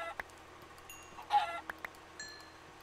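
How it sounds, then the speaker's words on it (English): Chickens in Minecraft give a few short clucks spread across a faint, quiet scene, with one slightly louder cluck in the middle and no talking. "More chickens, though."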